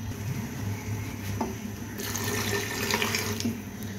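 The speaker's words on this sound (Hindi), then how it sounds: "यहां पर मैं इसके अंदर आधा कप पानी ऐड करूंगी" Half a cup of water runs into a pot of haleem in a home kitchen, a soft continuous splashing stream that grows slightly fuller toward the end, with no one talking.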